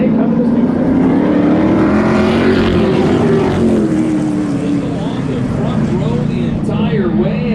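Hot rod classic race cars roar down the straightaway at River Glade Speedway, a loud continuous engine drone with rising and falling pitch as the pack passes close by.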